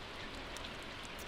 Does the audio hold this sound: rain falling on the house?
yes